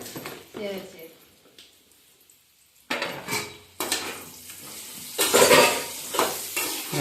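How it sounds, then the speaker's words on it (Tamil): Potato curry with salt and chili powder is stirred in a pan, scraping and sizzling in bursts at close range, with someone talking over it. "நல்லா கிண்டி விட்டு அப்படி லைட்டாக போட்டுக்கலாங்க"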